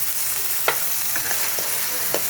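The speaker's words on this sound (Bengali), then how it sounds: "ভালো করে নাড়াচাড়া করে নেব।" Spice paste for a fish curry with yellow cauliflower being stirred in a frying pan, a steady low sizzle with a few soft scraping strokes of the spoon, close by and without talk.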